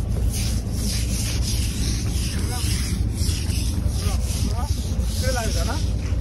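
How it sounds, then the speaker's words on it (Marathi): Sailors scrub oil off the steel deck of a running merchant ship, a continuous rough rubbing and scraping over steady engine and wind rumble, with people talking throughout. "असं आम्ही टेक घासतोय। प्रॉपर तर क्लिनिंग काय नाही, पण असं ऑइल काढायला लागतं।"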